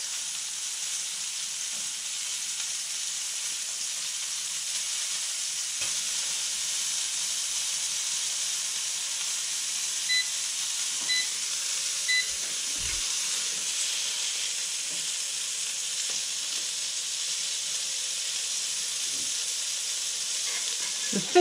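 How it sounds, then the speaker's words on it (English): Two fish fillets fry in Roman sauce, giving a steady, close hiss and sizzle that holds evenly throughout with no talking, broken only by a few faint pops and ticks. "this evening I only need enough for one, so I'm cooking 2 fillets"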